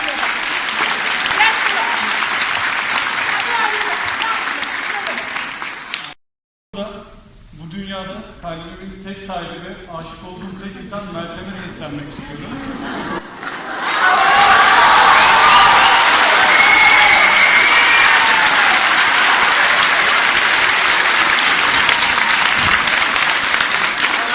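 A theatre audience applauds loudly in a dense wash of clapping, which drops away during a stretch of amplified talk before a bigger, fuller burst of clapping and cheering rises and holds.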